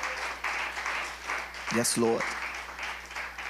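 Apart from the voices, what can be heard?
church congregation clapping hands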